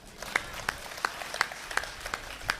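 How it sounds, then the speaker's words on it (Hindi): Sparse, slow claps ring out at a poetry and comedy show, roughly one sharp clap every third of a second, thin and somewhat distant rather than a full audience ovation. "अब आपकी तालियां उठेंगी।"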